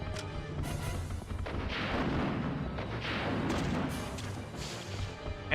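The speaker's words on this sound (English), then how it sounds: "Oh, I have a rocket launcher, don't I?" A rocket launcher fires in Resident Evil, giving a run of loud, dense booming blasts with crashing debris that keep the game mix full and steady for several seconds.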